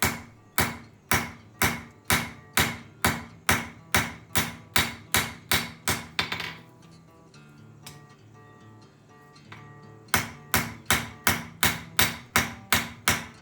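Hammer blows tapering the steel legs of a dragonfly sculpture, a fast run of ringing metallic strikes, a pause with a clang and light clatter, then another steady burst of hammering.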